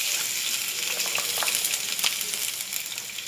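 Steady, loud sizzling of asafoetida, cumin, mustard seeds, coriander and garlic paste frying in hot oil for stuffed okra, with faint scraping and stirring sounds throughout.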